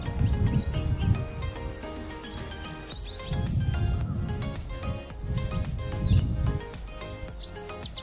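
Small birds chirp and tweet outdoors in repeated bright bursts, close and clear over a strong gusting wind.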